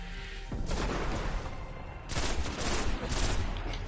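Rapid bursts of gunfire in the video game Destiny on PS4 crackle continuously, dense and loud, with volleys swelling in waves over a constant background.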